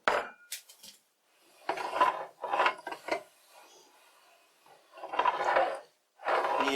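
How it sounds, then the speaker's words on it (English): Metal plate fitted to a lathe tailstock clamp, scraping and rubbing against the inside of the bed in several separate rasping bursts with short pauses between, close up and alone. "The sound you hear is the plate I installed on the clamp here to keep it from turning."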